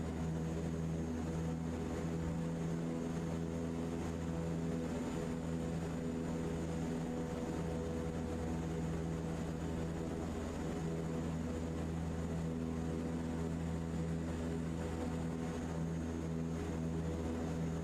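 Simulated aircraft descending with landing gear and flaps down in Microsoft Flight Simulator 2024, a steady droning engine hum with layered tonal whine holding constant throughout, no voices.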